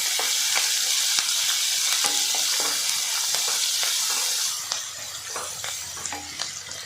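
Green chili and ginger-garlic paste sautéing in ghee, a steady close sizzle with occasional stirring clicks of a spoon against the pan, easing slightly toward the end.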